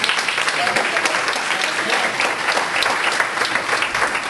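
A loud, full round of applause from a workshop audience at a small business expo, sustained clapping that fills the whole stretch, with some voices underneath.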